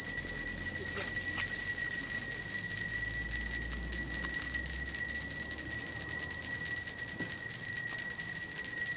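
Salvation Army red kettle hand bells give bright, sustained tones that ring steadily throughout, with high metallic partials that hold and overlap, with no clear individual strikes standing out.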